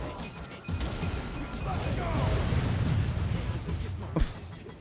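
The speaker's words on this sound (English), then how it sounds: "So many explosions" Explosions and crashing impacts from the video game Max Anarchy, a dense, rumbling wash of blasts and debris with a sharp hit near the end, game music and effects layered throughout.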